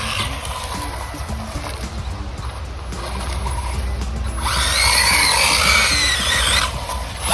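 A Wltoys 104072 RC car launches at full throttle, its electric motor rising into a loud, high whine over the earlier quieter running and rattling. No voices.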